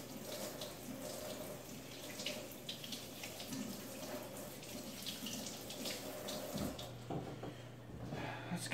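Water runs steadily from a kitchen tap into a sink as hands are rinsed, a soft continuous splashing that carries on for several seconds with a few faint clunks near the end.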